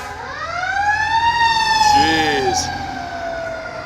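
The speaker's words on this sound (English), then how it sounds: "now there's like sirens everywhere" Emergency vehicle siren wailing on a city street, a loud rising-and-falling tone that swells close by and then eases off, with a second siren briefly overlapping and a man's short exclamation over it.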